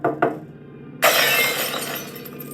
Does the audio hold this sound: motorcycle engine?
no